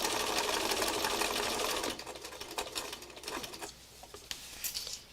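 A sewing machine stitches scrap fabric in a steady, loud mechanical whir for the first two seconds, then slows into uneven bursts of needle clatter and pauses.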